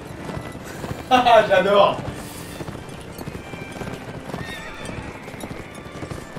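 A horse gallops and neighs in the game Mount & Blade: Warband, with a loud whinny near the start over steady clip-clop hoofbeats, and someone speaking briefly.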